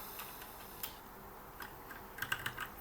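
Python code is typed on a computer keyboard in soft, scattered key clicks that are faint and close. A brief burst of faster tapping comes near the end.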